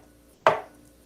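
Single sharp knife chop through chicken thigh meat onto a cutting board, a crisp close thud with a short tail, alone without talk.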